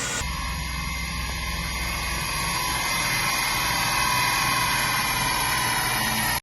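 2JZ engine of a Lexus SC300 running hard on a dyno, a loud sustained roar with a steady whine that holds and slowly rises before cutting off abruptly at the end.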